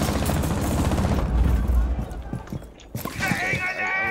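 Rapid machine-gun fire rattles in a space combat video game, heavy at first and then fading, with a voice and electronic game sounds overlapping near the end.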